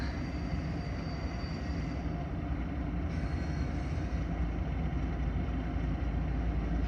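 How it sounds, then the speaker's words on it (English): A train rumbles steadily past at close range, a continuous low roar of wheels and engine with no pauses, loud throughout. "Get to see a train"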